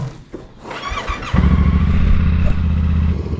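Several motorcycles start up and pull away together on a morning ride in Wales, a squeal and clatter giving way to a loud, steady multi-engine drone that rises sharply after the first second and holds near and full.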